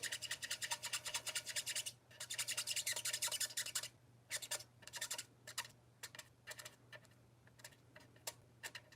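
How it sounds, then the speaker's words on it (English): Colored pencil rubbed back and forth on paper to blend darker color into a lighter center area, a close, dry scratchy rasp in rapid strokes, dense at first and then in shorter separated bursts, with no talking. "So I'm pulling color from where I colored with the darker color and moving it into the center where I have less color."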